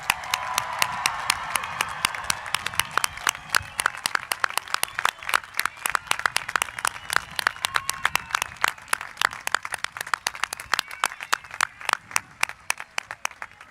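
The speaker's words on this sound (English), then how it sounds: "Please join me in giving a big round of applause for our graduating class." A high school graduation audience gives the graduating class a sustained round of applause, with many hands clapping at moderate distance in a large hall, the claps thinning into more distinct individual claps toward the end.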